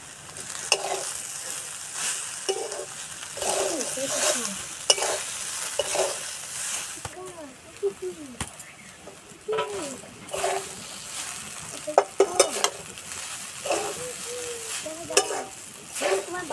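Chowmein noodles with carrot, potato and soya chunks are stirred and fried in a pan over a village stove, with a hissing sizzle broken by repeated scraping stirs and occasional clanks, and talk intermittently over it.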